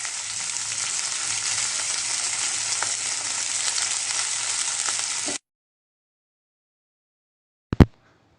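Chopped tomatoes and green chillies sizzle steadily in hot oil in a pan for about five seconds, a dense frying hiss that stops abruptly, followed by silence and one short sharp knock near the end.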